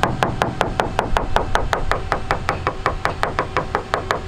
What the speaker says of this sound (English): Later, Borrelli showed how to go about detecting voids below the gel coat.